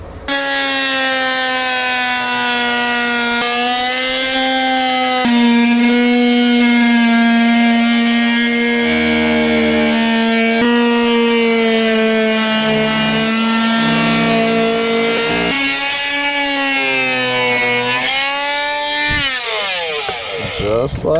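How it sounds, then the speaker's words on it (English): An oscillating multi-tool cuts a shape out of plastic during a golf cart lithium battery install, giving a loud, continuous high-pitched buzzing whine that shifts pitch as the blade loads up, steady throughout at close range. "now we're going to cut that out with the oscillating tool"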